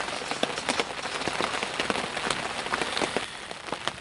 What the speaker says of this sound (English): this rain still hasn't let up yet